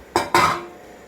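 Two bright metallic clinks from a steel pressure cooker container as idli batter is moved into it, the second ringing out and fading quickly.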